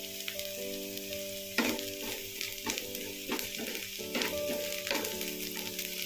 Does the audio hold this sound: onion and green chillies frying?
yes